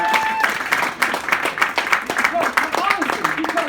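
At a political campaign event, the audience bursts into loud, uneven clapping that rises and falls in bursts, with voices calling out over it.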